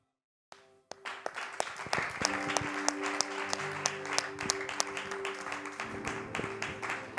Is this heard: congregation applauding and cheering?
yes